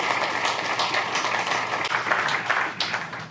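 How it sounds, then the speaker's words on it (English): A crowd at an outdoor groundbreaking ceremony for a sports park breaks into applause, a dense, moderately loud patter of many hands that carries on throughout. "he deserves a huge round of applause"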